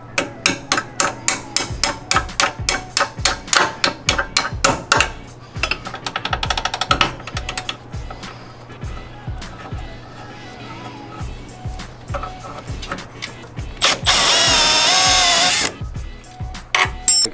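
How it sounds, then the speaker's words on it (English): An impact gun works a coilover bolt on an NA Miata, first in a fast series of sharp hammering rattles, then in a longer, loud whirring burst near the end, with workshop clatter between. "we can put a gun on this side with possibly a little bit of pressure on the back, take that bolt right out"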